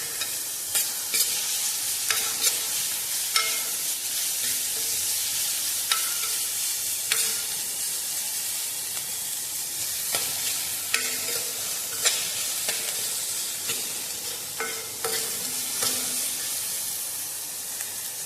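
Onion and green chili sautéing in a hot pan for tomato rice: a continuous bright sizzle, punctuated by regular scraping stir strokes from a spatula, with no talking.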